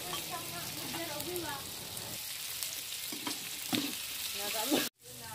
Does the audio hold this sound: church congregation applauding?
no